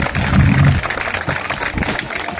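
A village crowd at a celebration of Babasaheb Ambedkar's birthday claps loudly for a couple of seconds, a dense burst of applause that thins into scattered claps and murmuring voices.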